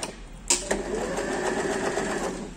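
An Usha sewing machine runs with its foot control pressed while stitching a buttonhole, giving a loud, steady mechanical whir after a sharp click at the start.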